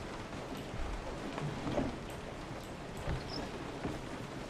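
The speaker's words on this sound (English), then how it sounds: "Ah, the rain's coming down now." Steady rain falling in Resident Evil 7, an even hiss with a few faint patters and soft thumps, no talking.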